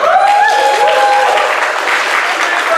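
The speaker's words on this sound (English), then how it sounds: "Round of applause for the clicker." An audience applauds at a talk, a steady wash of clapping that runs throughout, with a voice briefly heard at the start.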